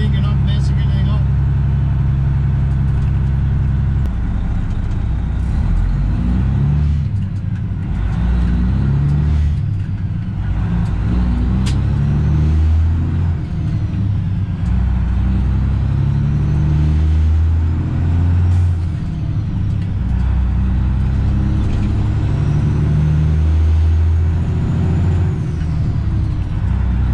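A Freightliner Classic XL truck drives and works up through its gears, a loud, steady diesel engine rumble rising and settling with each shift, an air brake hiss along the way, and someone talking over it throughout.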